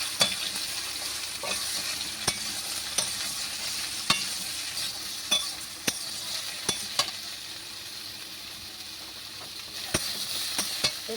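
Potatoes and ridge gourd frying in a pan, a bright continuous sizzle underlying repeated sharp scrapes and taps of a spatula as the vegetables are stirred, close and fairly loud.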